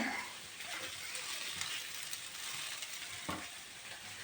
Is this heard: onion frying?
yes